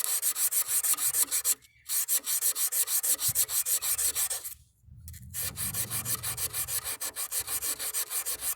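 Rust is scrubbed off a 1958 AMC Rambler Super door hinge with close, steady rhythmic rasping strokes. It pauses briefly twice before the rubbing resumes at an even pace.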